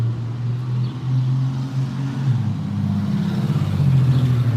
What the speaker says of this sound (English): And then that loud car was right at the corner of 411 with all these red cars in front of me.